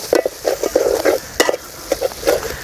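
Egg and drumstick pulp being scrambled in a pan for a Kerala-style thoran, rhythmic scraping and stirring strokes of a spatula against the pan over a light sizzle, close and distinct.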